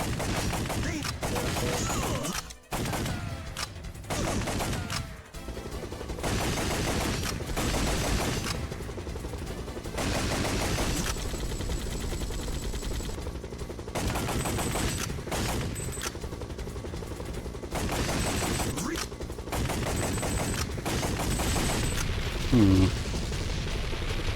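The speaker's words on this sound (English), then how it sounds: "You can hear the bullets, but you can't see them." Rapid video-game gunfire from the arcade shooter Time Crisis, dense bursts of shots and booms running steadily throughout, loud and close with game music and effects mixed in.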